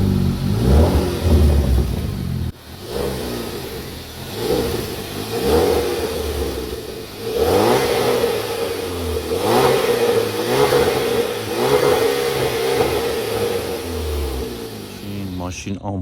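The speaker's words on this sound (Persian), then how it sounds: "خب بچه ها این یه پونتیاک 2007 سولتیسه" A modified 2007 Pontiac Solstice with a newly fitted muffler revs up again and again in loud, rising surges between idle dips while someone talks over it.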